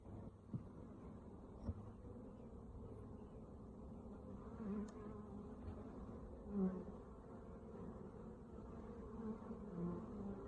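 Honeybees buzz around an open Langstroth hive with a super and brood box, a continuous low hum from many bees with occasional louder passes close by, faint and steady.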